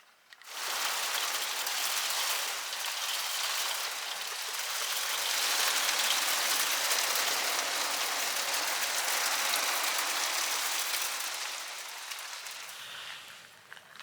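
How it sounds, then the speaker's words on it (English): Steady rain falls and patters on surfaces in a cool, damp outdoor setting, a dense even hiss lasting throughout before thinning and easing off toward the end. "It's finally almost stopped raining, but it is fairly cool and it's still damp."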